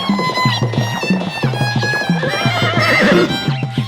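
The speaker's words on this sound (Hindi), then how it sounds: "उस तरफ से तो एक जिंदा घोड़ा आ रहा है।" A horse neighs loudly and close by in a series of repeated whinnies, one after another with no pauses, and no one speaks over it.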